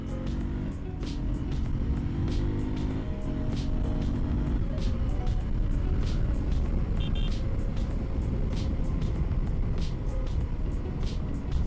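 KTM Duke 390 motorcycle being ridden, a steady engine drone with road and wind noise running throughout, fairly close, plus a scatter of short clicks and taps.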